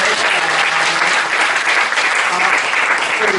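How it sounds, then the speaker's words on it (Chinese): Audience applause at a concert by an Amis indigenous music ensemble, a dense, loud and steady wash of clapping from a large crowd that holds for several seconds without a break. "掌声鼓励我们"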